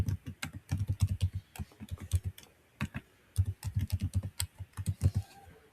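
Rapid, uneven bursts of clicky keystrokes on a computer keyboard while an email address is typed, close and fairly quiet with brief pauses between runs, no voices.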